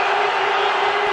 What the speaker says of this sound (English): these supporters of theirs in the crowd could be jumping up and down for some hours yet